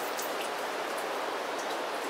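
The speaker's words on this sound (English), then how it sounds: "It's another rainy day." Steady rain falls on a December day as a dense, even hiss of droplets, continuous and fairly loud, with no voices.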